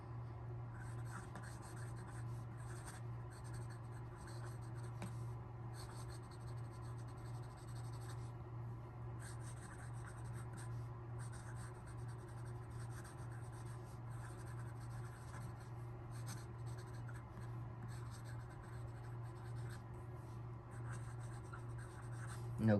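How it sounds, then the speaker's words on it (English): Quick writing with a fountain pen on paper, a steady run of fine scratchy strokes broken by short pauses, close and quiet over a constant low hum, with no talking. "And so next is the quick writing."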